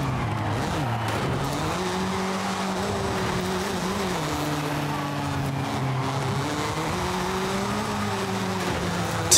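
Tires squeal steadily through a continuous drift in Forza Horizon 5, the pitch wavering as the car slides, with a loud engine droning underneath throughout and no talking.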